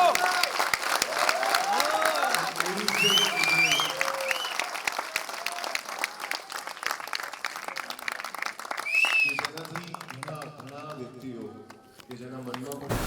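Loud, sustained audience applause and cheering fill a crowded hall at the Ahmedabad premiere of the new Gujarati film Jeev, greeting the two producer brothers, with voices sounding over the clapping throughout.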